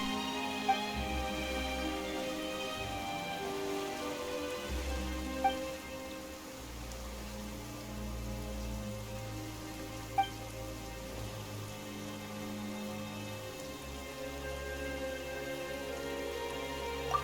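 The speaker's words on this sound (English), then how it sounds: "Why is it raining all of a sudden?" Steady rain patters on surfaces in the video game Genshin Impact, a continuous hiss of drops under a low, sustained musical drone, with a few sharp isolated clicks and no speech.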